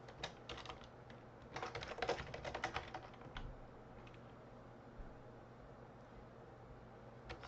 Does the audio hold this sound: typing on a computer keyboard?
yes